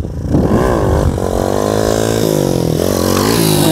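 A moped engine revs hard and close, its whine climbing in pitch, holding high and wavering as the throttle is worked, loud throughout.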